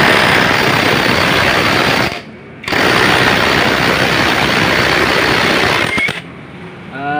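A motorcycle brought into a repair shop for a grinding fault runs steadily and loudly, with a dense harsh mechanical churn that cuts out briefly and then resumes.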